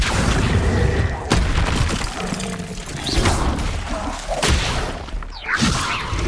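An Incendio fire spell cast in the Hogwarts Legacy video game, a loud whooshing burst with booming impacts and crashing debris in a dense, continuous game mix.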